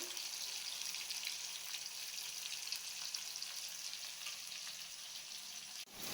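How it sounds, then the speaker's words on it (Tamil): Onions sauté in a pan with a quiet, even hiss of sizzling oil that continues steadily, close but faint, with a brief bump near the end and no speech. "வெங்காயம் நல்லா வதங்கட்டுமா."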